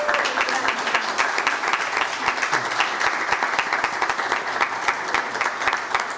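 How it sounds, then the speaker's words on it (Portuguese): Loud, sustained applause from an audience giving a standing ovation at a legislative chamber session, dense clapping filling the whole stretch without pause. "Vamos aplaudir de pé."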